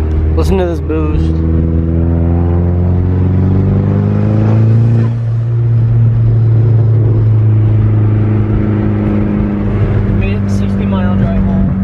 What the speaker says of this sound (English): Listen to this boost.